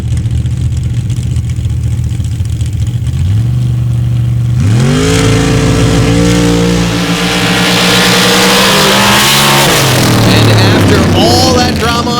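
A small Ford-powered Jeep and a big, heavy Ford truck from Spalding, Nebraska, launch in a drag race, engines revving up before a loud, sustained roar that holds for several seconds and then drops away, with faint voices behind.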